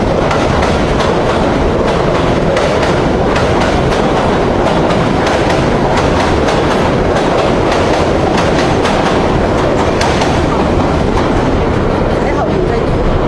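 A train rumbles past a Brooklyn neighborhood continuously, wheels clattering rhythmically on the rails, loud and close throughout.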